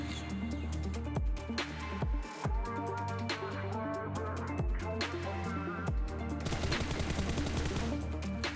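Rapid gunfire bursts in a mobile battle royale game, including UMP submachine gun fire, crackle in quick repeated volleys over a continuous musical game soundtrack, with several sharp louder shots standing out.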